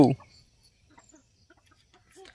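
A brief sound at the start, then a chicken clucks softly and sporadically in an otherwise quiet setting.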